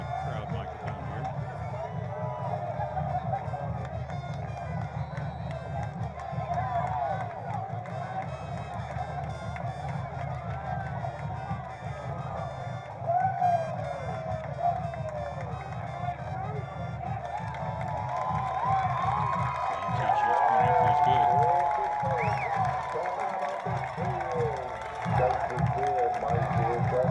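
A football stadium crowd keeps up a steady, distant roar with cheering and clapping at a college Division II game, and the noise swells louder about two-thirds of the way through while a voice talks over it.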